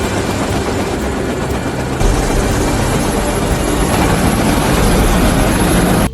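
A police helicopter flying overhead during an evacuation gives a loud, continuous broadband rotor and engine roar that grows slightly heavier midway and carries on without a break.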